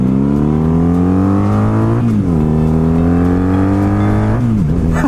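A 2002 Honda Magna V4 cruiser motorcycle engine revs up loud and close, with a steady rising drone, one brief dip around the two-second mark and a second drop near the end.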